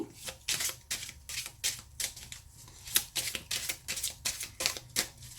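A deck of tarot cards is shuffled and cut at close range: quick riffling bursts come in a fast, uneven rhythm, each one a crisp papery flutter, with no voices.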